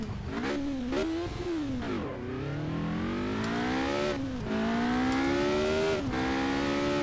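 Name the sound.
race car engine revving in Project Cars video game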